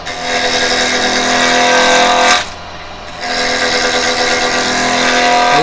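Wood lathe spinning a workpiece while a carbide chisel cuts, a loud continuous whirring scrape with a brief dip in the middle before the cutting resumes.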